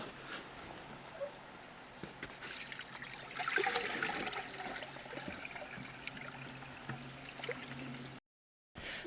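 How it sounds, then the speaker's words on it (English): Maple sap is poured into a pan, giving a steady trickling, splashing flow that lasts several seconds and swells briefly midway, heard close against a faint background with no clear talking. "We're going to pour this into the pan."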